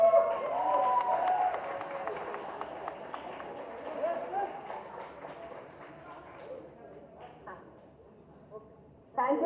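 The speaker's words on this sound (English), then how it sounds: "big clap for them" Audience clapping at a cancer awareness event for childhood cancer fighters, a loud burst of crowd applause and cheering that gradually fades, with a voice over it and a brief final clap.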